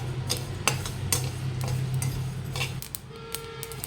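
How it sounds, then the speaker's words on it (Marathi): Sesame seeds roast over low heat in a kadhai, with a series of sharp scraping and tapping strokes from a stirring utensil over a soft hum, heard close and without talk. "त्याच्यातच आपल्याला ही तीळ भाजून घ्यायची तीळ ही कमी गॅसवर भाजायची"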